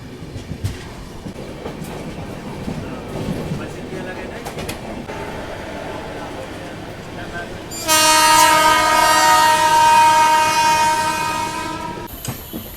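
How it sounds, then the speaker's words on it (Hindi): The Maharashtra Sampark Kranti Express sleeper train rolls slowly on its approach to Hazrat Nizamuddin, wheels clattering softly under rumble before a loud, sustained horn blast sounds for several seconds and cuts off. "पिछले 10 किलोमीटर से ट्रेन इतनी धीरे रफ्तार में चल रही है"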